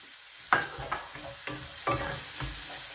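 Garlic sizzles in a hot pan for Filipino pork blood stew, with a steady fry broken by several sharp scrapes and stirs of a utensil, close and fairly loud.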